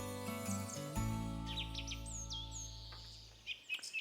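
Bright chirping birdsong plays as a jingle for a sewing show's early bird segment, with rising and falling whistled tweets over a sustained musical tone that fades out near the end.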